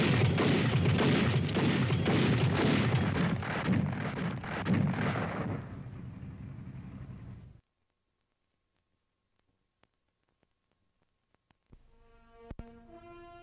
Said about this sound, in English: When it is used as a fully automatic weapon, it fires 240 rounds a minute.